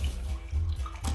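Water sloshes and splashes in the Nature Cat cartoon cave hunt game, a short, low, rushing burst heard alone.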